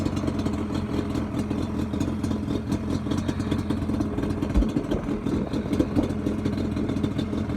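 A motorcycle-type engine fitted with cheap eBay cylinders runs at a steady idle, a continuous close low rumble with light mechanical clatter throughout and no speech.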